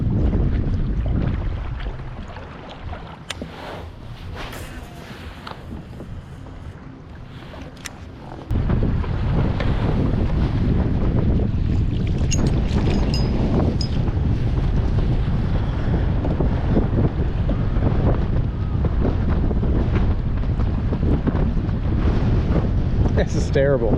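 Strong wind buffets a boat out on the water, a steady roaring rumble that drops briefly and then surges louder and harsher, with gusts battering the microphone throughout.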